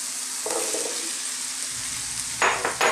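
Onions go into a pan of frying beef for carne guisada, giving a steady sizzle with a few soft stirring scrapes and a louder burst of frying noise near the end.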